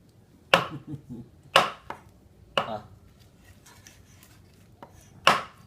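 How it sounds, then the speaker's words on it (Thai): Knife chopping buffalo offal on a board for laab: four or five loud, sharp chops spaced about a second apart, with faint softer knocks between and no talk. "ลาบซีดกับซอยเครื่องในครับ"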